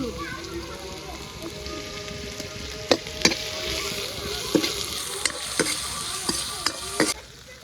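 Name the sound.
potatoes and greens frying in mustard oil in old iron wok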